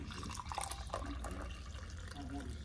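Coffee pours from a leaking pot, trickling and dripping onto a towel on a kitchen countertop, a soft, close liquid splashing that runs steadily throughout at low volume.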